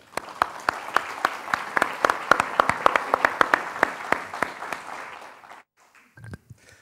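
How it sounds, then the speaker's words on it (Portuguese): Audience at a literary event applauds with sharp, distinct claps building into a lively round for several seconds, then tapering off into near silence. "Uma salva de palmas."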